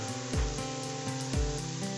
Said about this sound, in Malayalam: അതിലേക്ക് നമുക്ക് ഈ ചതച്ച് വെച്ച ഇഞ്ചിയും വെളുത്തുള്ളിയും കൂടെ നമുക്ക് ചേർത്ത് കൊടുക്കാം.